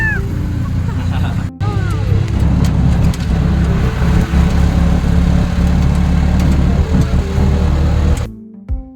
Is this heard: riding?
yes